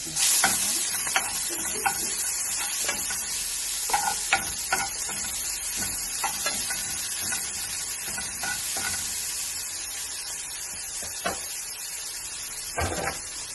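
Continuous steady sizzle of cabbage and onion frying in hot oil in a pan, with frequent scraping stirs and small clinks of a spatula throughout.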